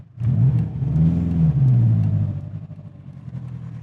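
A built 2005 Subaru STi pulls away from a standing start with a new clutch and flywheel, its engine note rising loud and close, slightly uneven and choppy, then settling into a steady drone.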